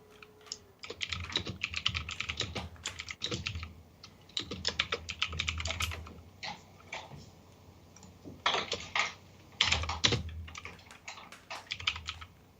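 Typing on a computer keyboard close to the microphone, clattery keystrokes in irregular quick bursts with short pauses between them, no talk.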